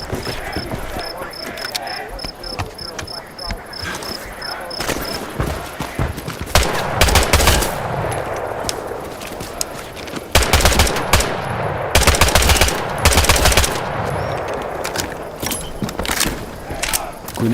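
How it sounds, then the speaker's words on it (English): Close, loud bursts of rifle and machine-gun fire at targets in the Vietnam-era shooter game Hell Let Loose Vietnam, with rapid volleys, a steady ticking tone early on, and a spoken voice heard in places. "Shoot the targets ahead, aiming for the helmet to guarantee an instant kill"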